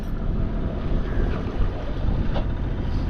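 Steady broadband wind roar and rushing water on a sailboat beating upwind out of Portsmouth harbour, constant and fairly loud with microphone buffeting and no voices.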